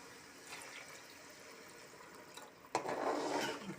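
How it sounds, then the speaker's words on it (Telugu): Tamarind water poured into a gar fish curry in a home kitchen, a sudden splashing pour that starts near the end and continues as a steady liquid rush. "ముందు నానబెట్టుకున్న చింతపండు నానబెట్టుకుని ఆ పులుసు ఇది ఇందులో వేసుకోవాలి."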